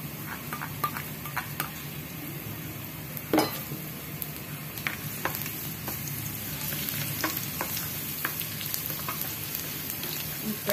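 Garlic frying in a pan for a spicy saucy horse-meat tapa: a steady broadband sizzle with scattered ticks and clicks from utensils, one louder clatter early on, no talk.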